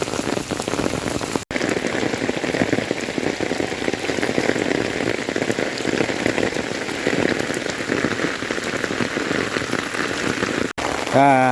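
Steady rain from a storm in Laos falling on a surface, a dense continuous patter close by, with no pauses except a couple of brief cuts.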